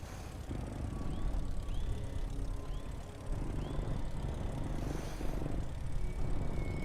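A player-built plane's engine in Trailmakers drones steadily with a low propeller hum, a few faint rising whines passing over it.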